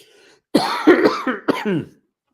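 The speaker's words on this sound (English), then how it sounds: "Speaking a lot brings on the cough." A short burst of harsh coughing up close, several rough hacks in quick succession with a throat-clearing quality, then quiet.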